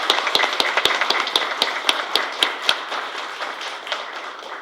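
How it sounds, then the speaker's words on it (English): Sharp claps at a school board meeting ring out one at a time in a steady, fairly quick rhythm over a light background hum, then thin out toward the end. "let's give them a huge round of applause"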